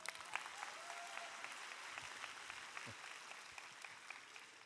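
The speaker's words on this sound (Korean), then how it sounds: "박수 한번 해주세요." A church congregation at a Sunday service applauds together in a soft, sustained wash of clapping, heard from a distance and faint throughout.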